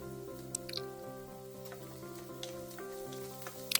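Asafoetida (MTR hing) frying in hot oil in a pan while making coconut rice, a steady soft sizzle with scattered drips, pops and crackles running throughout, close and moderately quiet.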